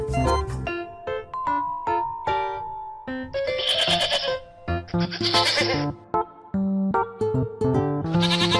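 A farm goat bleats repeatedly and close up, a run of wavering, nasal cries with short pauses between them, some calls louder and shriller than others.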